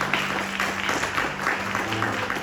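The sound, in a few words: congregation applauding Jesus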